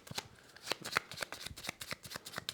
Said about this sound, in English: First things first, I'm going to shuffle these cards.